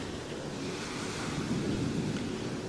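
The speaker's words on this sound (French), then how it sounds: "le bruit des vagues au loin" Steady ocean surf rolls near a small island off Bali, a continuous broadband wash of waves with some wind, heard alone without voices.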